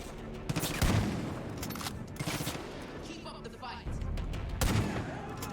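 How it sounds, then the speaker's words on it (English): Unsuppressed weapon fire in the shooter game Far Cry 5, with loud bursts of gunshots in several volleys separated by short gaps, and a voice occasionally speaking between them. "I've been shooting at them. With an unsuppressed weapon, might I add."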